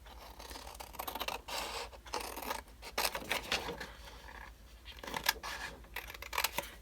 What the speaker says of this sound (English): then I'll just cut out my pocket